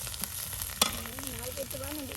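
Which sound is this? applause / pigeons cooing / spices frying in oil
spices frying in oil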